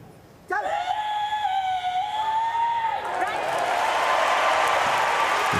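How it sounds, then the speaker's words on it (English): A crowd at a Paris 2024 Paralympic powerlifting final, women's -45kg, gives a shrill sustained cheer that gives way to a broad, loud roar of applause filling the arena. "Huge applause from the crowd."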